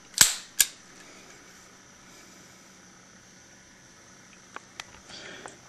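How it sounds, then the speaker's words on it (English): Dry-fire double action only trigger pulls on a Smith & Wesson Model 642 revolver with a 2-inch barrel and snap caps: two sharp metallic snaps close together at the start, then a few fainter clicks later, in an otherwise quiet room. "In this segment we're going to demonstrate a double action only trigger pull on a revolver."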